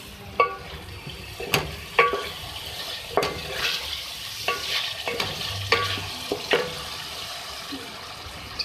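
A spoon stirs green chillies into Delhi chicken in a hot pan, with a steady sizzle of frying and regular scraping clinks of the spoon against the pan, close and clear.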